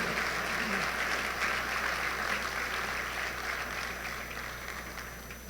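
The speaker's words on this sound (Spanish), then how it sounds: "Denle un aplauso al Señor por su palabra." A church congregation applauds during a Sunday morning service, a sustained, even wash of many hands clapping together at close-to-moderate distance that tapers slightly near the end.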